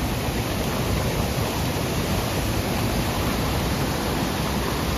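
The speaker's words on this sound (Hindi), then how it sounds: "ये देखो एक बार मैं आपको झरना दिखाती हूँ छोटा वाला।" A small waterfall at Jharipani near Mussoorie gives a steady, loud, broadband rush of falling water with no pauses, close to the listener and with no voices heard.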